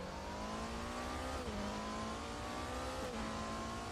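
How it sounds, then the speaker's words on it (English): A hybrid hypercar engine sourced from the Porsche 918, driven in the RaceRoom racing game at Daytona, hums steadily with a high tonal whine, briefly dipping twice as gears shift, close and sustained. "This moment when the engine turns on here. The good old, like, sourced from the Porsche 918 hybrid, actually."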